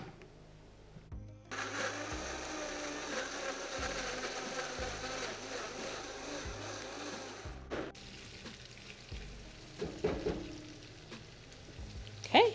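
A blender purees two fresh tomatoes for beef jollof rice. It starts with a loud, steady whir that runs for about six seconds, then cuts out into softer clatter and a few knocks as the jar is handled.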